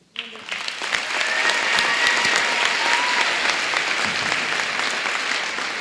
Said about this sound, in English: How about a big round of applause for all these great students?